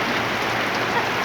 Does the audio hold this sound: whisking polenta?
no